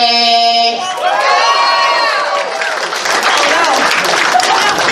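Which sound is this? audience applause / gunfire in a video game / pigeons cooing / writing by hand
audience applause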